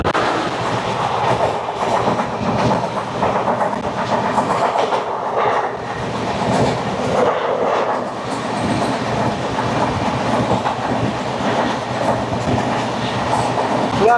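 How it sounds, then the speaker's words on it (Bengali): The Purushottam Express, train 12802 from New Delhi to Puri, rolls into a station with loud continuous rumbling and rhythmic clickety-clack of wheels over rail joints, close and steady throughout. "চলে আসছে ট্রেন নাম্বার 12802, নতুন দিল্লি থেকে পুরী, পুরুষোত্তম এক্সপ্রেস।"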